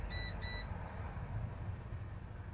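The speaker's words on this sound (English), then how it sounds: "once you hit the button, you can hear it beep" A solar battery power station's switch gives two short, high electronic beeps in quick succession over a steady low hum, then only the hum continues.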